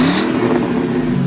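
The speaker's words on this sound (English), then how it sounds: "Take a listen to this stock exhaust." Stock exhaust of a C4/C5 Corvette V8 rumbles loud and near in a brief burst, with a deep steady burble and a slight rev.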